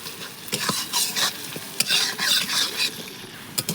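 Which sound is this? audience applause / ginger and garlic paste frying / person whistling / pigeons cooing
ginger and garlic paste frying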